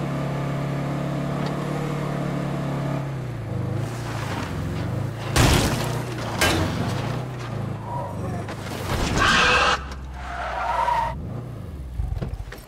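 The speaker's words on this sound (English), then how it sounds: "The Miata is the worst car for off-roading?" A Mazda Miata is driven off-road in the zombie survival game State of Decay 2: engine drone, tires skidding and thumping over rough ground, with a few loud bangs and bursts, fairly loud throughout.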